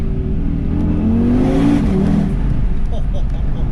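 An Audi TT RS Roadster accelerates hard on an open road with the windows up, its engine note climbing steadily in pitch for about two seconds before easing off, loud and close from inside the cabin.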